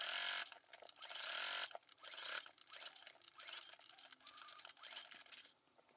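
A sewing machine stitches a travel bag in bursts of rapid whirring, stopping and restarting several times, close and fairly loud with no talk.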